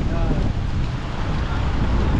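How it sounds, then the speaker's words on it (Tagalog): Loud, steady wind buffets the microphone outdoors in Quezon, Philippines, a thick low rumble with no letup throughout. "Lakas ng hangin."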